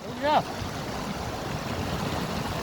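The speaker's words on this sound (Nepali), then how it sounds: "यो चाहिँ सानो झरना रहेछ" Steady broadband rush of a small mountain waterfall on the Tilicho trek continuing throughout, with a brief whistle-like voice or bird call near the start.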